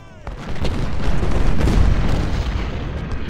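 Cannon artillery fire in the Civil War strategy game Ultimate General, heard as a rolling, sustained rumble of overlapping booms that swells after a brief quiet start and stays loud throughout.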